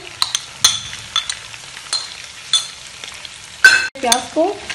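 Sliced onions fry in a pan for mutton karahi, with a soft sizzle under intermittent stirring and scraping. Sharp clinks and knocks of a utensil against the pan come in irregular bursts.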